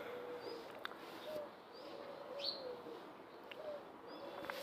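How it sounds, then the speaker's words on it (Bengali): Colored pigeons coo softly at a distance, low and faint, with a few thin chirps from other birds scattered over a steady background hiss. "এই ভাই সবগুলোই কালারিং কবুতর আনছে"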